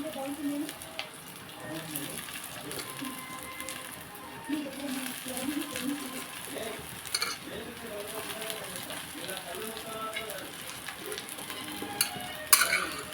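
Cooked rice is stir-fried in a pan for egg fried rice. Steady sizzling runs under soft scraping and stirring, with occasional metal clinks from the spatula and one sharper clatter near the end.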